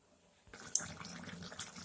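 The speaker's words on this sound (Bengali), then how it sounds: "জল দিয়েছি, দেখুন।" Water poured into a pan of soybean and potato curry, a brief splashing gush that starts abruptly after a quiet moment and continues with light bubbling and trickling, fairly soft and close.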